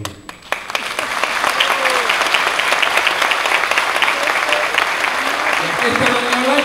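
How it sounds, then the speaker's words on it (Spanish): Steady, dense applause from an audience at a poetry and storytelling festival in Lajas, starting after a brief pause and holding loud and even, with a voice speaking over the clapping. "Y ahora hoy con estos aplausos, con este cariño, con este afecto"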